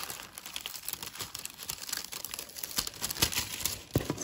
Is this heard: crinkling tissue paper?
yes